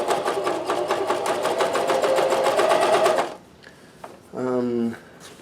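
Janome CoverPro 1000CPX coverstitch machine running a fast, even stitching rattle for about three seconds, then stopping, followed by a brief spoken voice.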